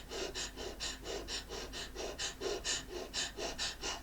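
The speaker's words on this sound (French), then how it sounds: "Ça va être une respiration holotropique, je crois, que ça s'appelle." Rapid, rhythmic holotropic breathing pumps the lungs in quick, even inhale-exhale cycles, steady and close, with no talking.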